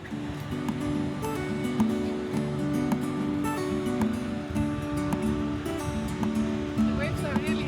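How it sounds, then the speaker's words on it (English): High ocean waves break on a beach at Peniche, a steady wash of surf roaring beneath people talking throughout. "The waves are really high."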